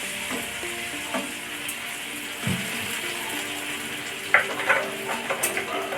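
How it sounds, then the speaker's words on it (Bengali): Chicken kofta frying in a pan, with water poured in to boil it, giving a steady sizzle and bubbling plus a few stirring scrapes and splashes, close and moderately loud. "এবার আমি এটা সিদ্ধ করার জন্য জল দিয়ে দিচ্ছি"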